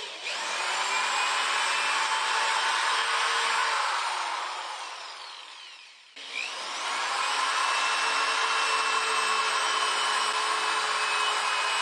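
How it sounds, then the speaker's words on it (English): A power drill whines steadily into the corners of a wooden frame, one long burst that winds down, a brief pause, then another sustained drilling run. "we'll drill the corners and connect the pieces."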